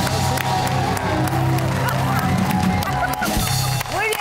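A TV talk-show studio audience claps and cheers for a guest, with a lively mix of hands, whoops and crowd noise alongside music-like tones throughout.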